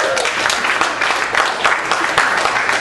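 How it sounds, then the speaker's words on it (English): Audience at a spoken-word poetry event applauding, a steady wash of many hands clapping throughout, fairly loud and close with a faint voice underneath. "So give yourselves a round of applause."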